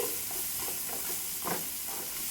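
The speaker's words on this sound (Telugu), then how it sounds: "ఇప్పుడు దొండకాయ ముక్కలు కూడా బాగా ఫ్రై అయిపోయాయండి" Chopped ivy gourd pieces frying in a pan, a steady low sizzle with soft stirring scrapes near and fairly quiet, with no voices.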